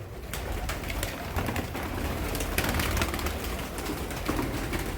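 Pigeons caught in a net, with many more perched above it, give low cooing calls amid dense rustling, fluttering noise that runs steadily throughout.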